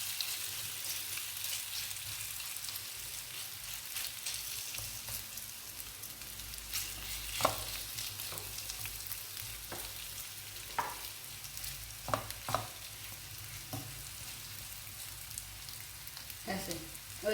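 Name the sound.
vegetable pancake frying in oil in a frying pan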